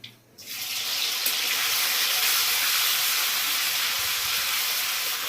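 Ginger and green chilli paste hits hot oil in a pan, bursting into a loud, steady sizzle after a short quiet moment, a continuous close hiss that holds without pause.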